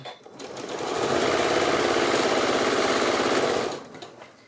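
A sewing machine runs a steady burst of stitching on a three-layer pleated fabric mask, rising from a brief start to a loud, even whir for about three seconds before stopping.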